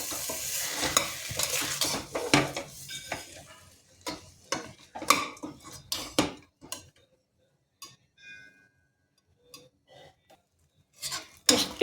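Tomato frying in a pan for a cracked-wheat khichdi while a spoon stirs it, giving a soft sizzle broken by sharp scraping clicks and taps against the pan that come in irregular bursts, then grow sparse.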